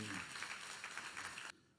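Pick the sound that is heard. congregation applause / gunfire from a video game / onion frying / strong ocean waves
congregation applause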